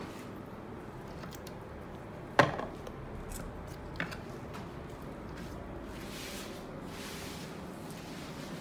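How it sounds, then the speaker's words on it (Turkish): Scissors snipping during a barber's dry haircut in a training session, with a sharp isolated snip followed by a fainter one over a steady low background hum. "Şimdi makasa geldi sıra."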